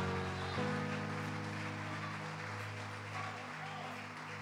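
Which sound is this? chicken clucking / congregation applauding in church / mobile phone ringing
congregation applauding in church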